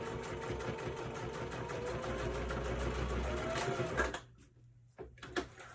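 A home sewing machine back stitches a seam on a small wristlet bag, a fast, steady mechanical whir with rapid needle ticks for about four seconds, then stops abruptly, followed by a few quiet handling clicks.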